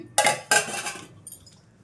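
A spoon knocks against a bowl while wheat flour cupcake batter is mixed with milk: two sharp close clinks followed by softer scraping and a faint final tap.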